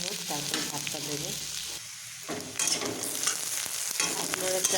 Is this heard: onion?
yes